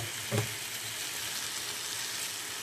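Meat being sautéed dry (kosha) in a pan for a Bengali curry, a steady close sizzle and fry with one brief stirring clatter near the start.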